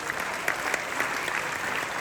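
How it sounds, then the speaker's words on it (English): A gala dinner audience at a sports hall of fame event gives young sports stars a round of applause, a dense, steady wash of clapping throughout the brief moment. "Let's give them a huge round of applause"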